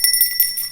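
A small hand bell rings a few times in quick succession, its bright metallic tone clear and close with a short decay between strikes.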